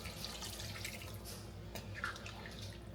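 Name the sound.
water being added to cooking pot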